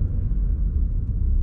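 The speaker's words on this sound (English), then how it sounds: "I wanna just go from a stop here and show you guys this four cylinder has no issue." Steady low engine rumble of a 2021 Mazda CX9 four-cylinder pulling away from a stop up a steep hill, a constant close drone with no talk over it.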